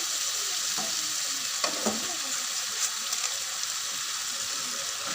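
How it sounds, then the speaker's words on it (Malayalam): Chicken goes into a sizzling pot of masala for biryani, giving a soft, even frying hiss with a few light clinks and stirring scrapes, fairly quiet and without talk. "ഇതിലേക്ക് ചിക്കൻ ഇട്ട് കൊടുക്കുകയാണ്"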